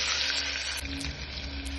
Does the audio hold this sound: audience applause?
no